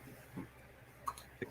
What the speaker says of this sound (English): She has hiccups.